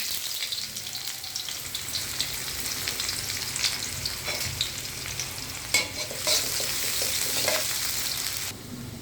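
Onions and cumin seeds fry in oil, a steady broadband sizzle with occasional stirring scrapes and small pops, close and continuous with no talking.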